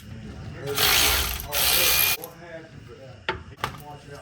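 A ratchet breaking loose a 10 mm bolt at the rear end of a 2015-2020 Ford F-150, two longer loud grinding bursts followed by a couple of sharp clicks, close up.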